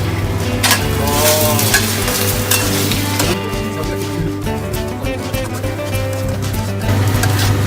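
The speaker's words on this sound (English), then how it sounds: "Then we go into the pan with the egg." Egg frying in a hot pan, a steady crackling sizzle with occasional metallic scrapes and clinks of utensils against the pan, close and fairly loud with no talking.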